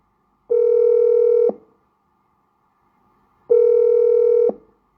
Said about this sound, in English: Pick your call, he's ringing.